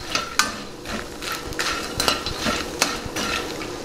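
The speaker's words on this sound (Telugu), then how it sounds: "పూల్ మకానీని బాగా దోరగా వేయించుకుందాం." Phool makhana (fox nuts) fry in a little oil in a pan, with a soft sizzle under repeated scraping and stirring clatters of a utensil against the metal, close and fairly quiet.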